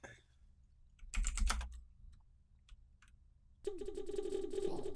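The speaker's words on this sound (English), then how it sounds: "He's typing the PM." Computer keyboard typing during an online Galcon 2 tournament match, a burst of rapid clicks, scattered single keystrokes, then a denser stretch of typing at the end, close and clear with no talking.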